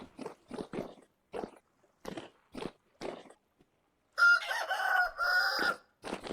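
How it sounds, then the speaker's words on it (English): A rooster crows once, loud and close, a drawn-out harsh call near the end, after a series of short pecking or clucking bursts from nearby hens and roosters. "hens and roosters down here"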